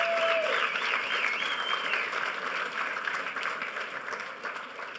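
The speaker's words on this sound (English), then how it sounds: "Give them a huge round of applause." A conference audience at The Next HOPE 2010 hacker conference applauds its volunteers, with steady, dense clapping that fills the whole stretch and fades only slightly toward the end.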